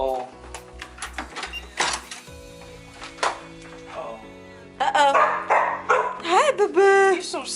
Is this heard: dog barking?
yes